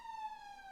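A wailing siren holds a steady, slightly falling tone, heard from a moderate distance with faint road noise underneath.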